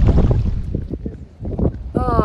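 Wind buffets the microphone during a canoe trip on the Yukon River, a loud, steady rumbling gust under speech and paddling, with a whistling tone near the end.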